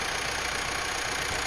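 A tractor engine idles steadily near a boat launch bank, giving a continuous, even rumble with no talk over it.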